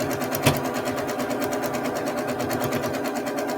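A sewing machine stitches a quilt block, running steadily for a few seconds with a fast, even mechanical whir and one sharp tick near the start, close and fairly loud with no talking.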